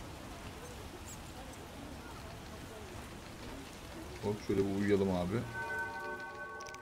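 Steady rain pattering down in The Witcher video game, a soft continuous hiss throughout, with someone speaking briefly over it near the end as a game tone rises.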